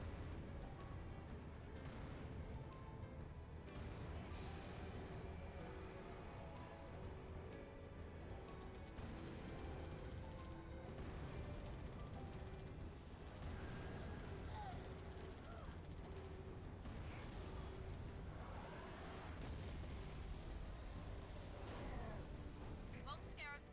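Continuous battle din in Halo as units pour gunfire and explosions onto a Scarab: dense overlapping shots and blasts with sharp bursts throughout, loud and steady, with a voice talking over it.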